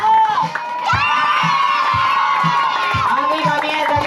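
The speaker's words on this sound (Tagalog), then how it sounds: "palakpak na may kasamang yehey!" Children and adults cheer and shout at a birthday party, a loud continuous crowd roar with whoops, and rhythmic clapping beats running through the whole stretch.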